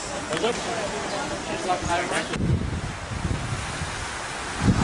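Wind buffets the microphone by the Aegean Sea at Altınoluk, with a broad rush of waves and gusts rising and falling under nearby talk.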